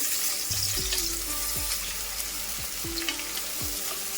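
Onion frying until brown for chicken biryani gives a constant dense sizzle, with occasional stirring scrapes and faint background tones. No one speaks.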